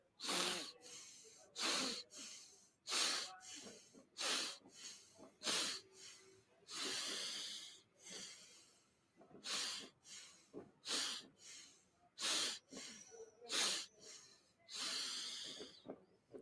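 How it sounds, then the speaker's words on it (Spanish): Connected breathing exercise through the nose: loud, close, rhythmic sniffing inhales and hissing exhales follow each other with no pause, about a dozen cycles and no talk. "Fijaos que esta respiración es conectada, quiere decir que no hay pausa entre inhalación y exhalación."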